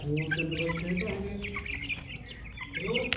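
Chicks and hens cluck and peep steadily while pecking at potatoes, a dense overlapping chorus of close, moderately loud calls throughout.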